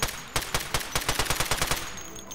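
Rapid gunfire from an overpowered gun in Garry's Mod rattles out in a quick run of sharp, evenly spaced shots lasting about two seconds. The burst is fairly loud and close, then stops, leaving faint background tone.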